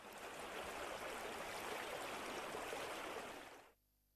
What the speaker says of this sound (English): the water flowing in a river